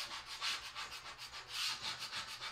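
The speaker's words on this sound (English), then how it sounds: "use your paste scraper." A plastic paste scraper dragged repeatedly across a stencil to lift chalk paste, a rhythmic series of close, raspy scraping strokes with no voices.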